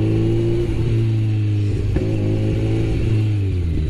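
A motorcycle exhaust revs on a street, a close mid-pitched engine note that rises and falls with a brief sharp pop midway, heard alone.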